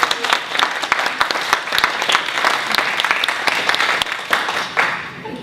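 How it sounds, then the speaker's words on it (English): Applause at a book festival author event, with steady dense clapping from an audience throughout, fairly loud and close. "I think we should start with some congratulations and applause."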